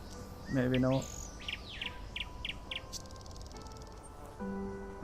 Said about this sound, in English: That's a seagull.